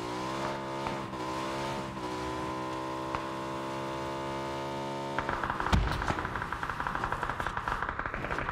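A motorbike engine in the video game PUBG holds a steady droning hum that shifts into a rougher, louder revving rattle partway through, alone with no talk.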